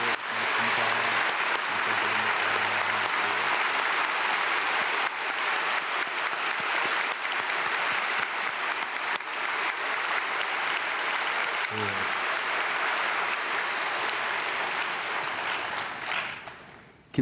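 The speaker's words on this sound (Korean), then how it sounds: "우리 박수하겠습니다." A church congregation applauds at a Sunday praise service, steady sustained clapping filling the hall for about sixteen seconds before tapering off at the end.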